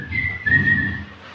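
A person whistles a short, bright melodic phrase, rising then holding, imitating a happy mother walking home after being bought gold; clear and close, with no talk.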